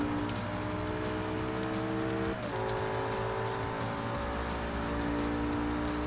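A Lamborghini Reventon engine in Forza Motorsport 3 drones steadily at high revs with a brief dip as it shifts gear, then keeps pulling; game-like, continuous and loud, no talking.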